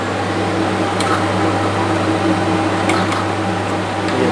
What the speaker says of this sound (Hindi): कूलर कर देता हूँ, बहुत आवाज़ कर रहा है।